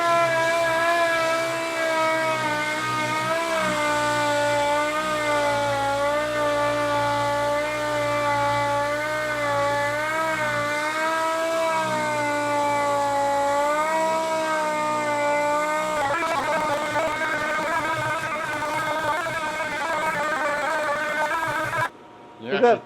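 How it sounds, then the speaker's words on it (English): A power sander running 3M Cubitron Xtract 80-grit sandpaper makes a loud, steady whine with a wavering pitch for about sixteen seconds, then roughens into a grinding scrape before cutting off near the end. "we're going to throw the 80 grit Extract 3M on here, and he's going to do some cutting and see what he thinks"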